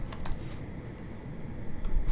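Computer keyboard typing while composing marching percussion music: a few light, close key clicks near the start and end over a steady background hum, no voice.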